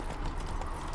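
Horse hooves clip-clopping at a steady walking rhythm in The Witcher 3, close and moderately loud, in a short burst of game audio.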